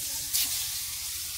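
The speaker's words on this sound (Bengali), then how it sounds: "বেগুনও ভাজতেছি।" Eggplant slices fry in oil in a pot, a brief steady sizzling hiss with one sharper burst of spatter early on.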